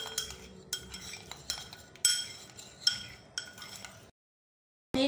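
A metal spoon stirs vegetable ghee with an ice cube in a bowl, giving repeated close clinks and scrapes in an uneven rhythm, followed by a short silence at the end.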